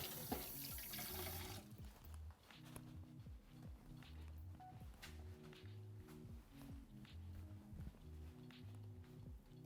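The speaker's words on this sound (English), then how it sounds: "Just gonna rinse off my whisk before it gets all bunged up." A kitchen tap runs steadily while a whisk is rinsed under it after mixing pancake batter, the water noise continuous and close beneath louder background music.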